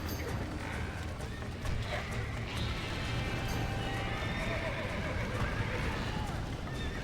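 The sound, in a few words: horses neighing and galloping in video game Red Dead Redemption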